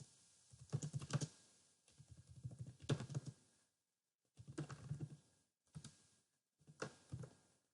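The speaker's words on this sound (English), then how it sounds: "And then you type out whatever that is" Soft, close computer keyboard typing in several short bursts of rapid key clicks separated by brief pauses, faint and with no voices.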